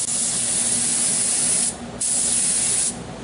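DuraCoat gun finish sprayed onto a firearm's upper receiver: a steady, close airbrush-style hiss in two long bursts separated by a short pause, with no talking.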